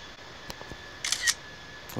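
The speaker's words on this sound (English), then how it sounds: "you can actually hear it go chicka, like for the camera noise, the shutter sound is pretty funny" Camera shutter in the Infinite Flight simulator firing during screenshots, several short crisp clicks with a quick double snap near the middle, fairly quiet over a faint steady cockpit hum.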